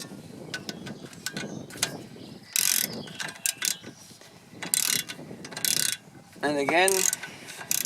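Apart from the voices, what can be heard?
ratchet tightening brake caliper bolt on Citroen Xsara Picasso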